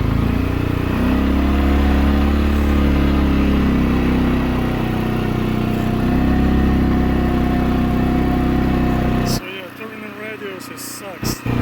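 A 2021 CFMOTO CForce 400S ATV engine runs steadily in snow with a loud, continuous mid-range drone, then drops off near the end to a quieter idle with some noise bursts.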